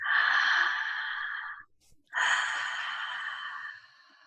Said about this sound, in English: take a deep breath into your ribs